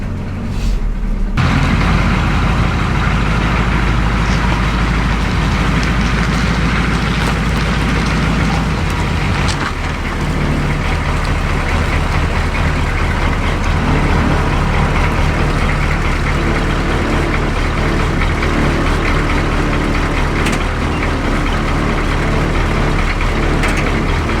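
Military square body Chevy truck engine running while the truck backs in, a loud, steady low rumble close by that persists throughout with no talking.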